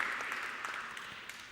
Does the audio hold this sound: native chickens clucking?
no